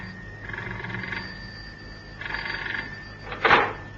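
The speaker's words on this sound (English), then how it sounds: "As it was, Cannon had hardly put the phone down in the house in Sloane Street when it rang." A telephone rings inside a house on Sloane Street, giving two trilling electronic rings with a pause between them, fairly clear and close, followed by a short clunk as the call is picked up.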